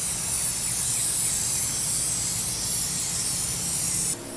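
A spray can hisses steadily and continuously up close as a gloss top coat goes onto a lawn mower deck, one unbroken burst with no talking.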